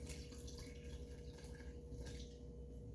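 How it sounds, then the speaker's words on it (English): Warm water trickling into a sourdough starter, a soft thin pour with light dripping, faint and close over a quiet kitchen hum. "Okay, so I added the water."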